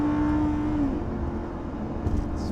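A Lamborghini sports car engine holds a smooth, loud, steady note close by, then its pitch eases downward as the revs drop and it settles into an even hum.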